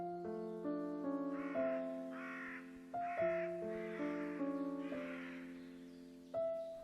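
A crow caws several times in a row, loud, close and rhythmic, with each harsh call clearly separated and no other sounds around.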